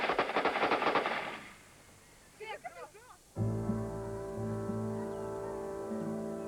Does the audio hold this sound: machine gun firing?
yes